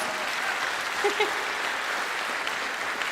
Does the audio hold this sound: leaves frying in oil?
no